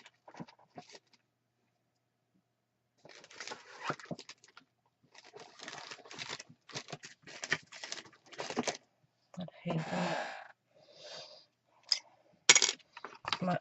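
Snips cut squares of material in bursts of crisp clipping and crunching close by, separated by brief pauses, with scattered light clicks as the blades work; the snips are worn and slightly wobbly.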